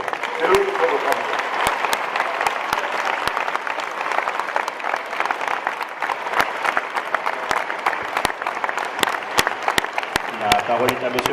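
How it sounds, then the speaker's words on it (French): An audience applauds at the inauguration of a gymnasium in La Londe-les-Maures, steady crowd clapping with sharp individual claps popping out, and brief voices surfacing at the start and near the end. "c'est eux qu'il faut applaudir"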